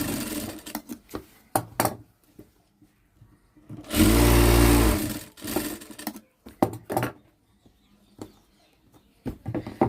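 Sewing machine stitching a churidar pant seam, with one steady run of about a second and a half between quiet handling taps and rustles.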